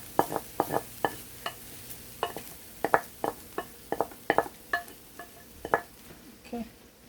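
Saltfish codfish fries in an iron skillet, with a soft sizzle under a steady run of sharp utensil scrapes and taps against the pan, close and fairly regular.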